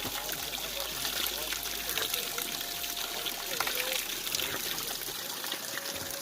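Cold mountain stream below snow on the Mandani trek, rushing steadily with broadband splashing close by, while someone talks over it.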